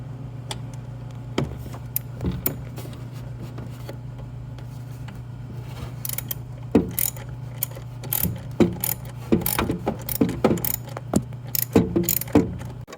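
A wrench ratchets and clicks while loosening two bolts on a 1985 Honda Elite 150 scooter in a cramped garage, with scattered metallic clicks and knocks over a steady low hum, growing busier toward the end.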